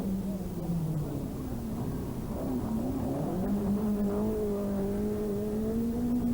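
Unique Peugeot-based rally car at the 1988 Donegal International Rally, its engine note holding steady and rising through the gears at a distance, with commentary over it.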